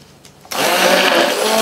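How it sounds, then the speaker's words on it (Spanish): An electric mixer whirs on abruptly after a brief quiet moment, beating egg, softened butter and sugar for pancake batter with a loud, steady, close drone. "Vamos a batir un poquito."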